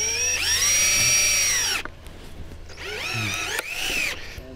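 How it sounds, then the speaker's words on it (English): A power drill drives a screw into wood in whirring bursts, revving up and slowing as it bites, with short pauses between runs. "Let's see if I can screw through this without splitting the wood."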